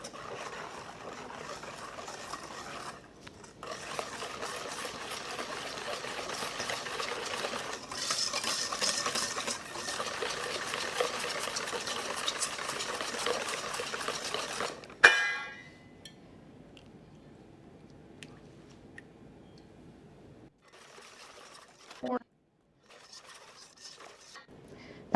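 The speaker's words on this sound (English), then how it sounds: "I'm going to ladle some of this in here and whisk it into the eggs to temper the eggs." Whisking hot milk into eggs in a bowl to temper them for cream cheese frosting: a busy stretch of quick, close metallic stirring and clatter, then a sharp knock and quieter scattered scrapes and taps.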